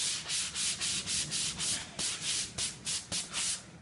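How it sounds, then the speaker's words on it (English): A 220-grit sanding sponge rubs back and forth along the edge of primed MDF, giving a steady run of about a dozen close, fairly loud scratchy strokes, each ending in a faint tap, with no voices. "it might be as well off to use one of these sanding sponges. Again, 220 grit. Just basically rubbing the edge."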